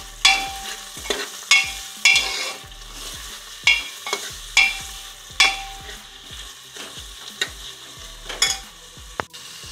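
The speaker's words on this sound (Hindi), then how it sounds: "मैंने बारीक कटे हुए 2 प्याज लिए हैं। अच्छे से मिक्स कर दें।" Finely chopped onions being stirred in a pressure cooker, a loud sizzle broken by regular scraping strokes of a spoon roughly every second, close and without speech.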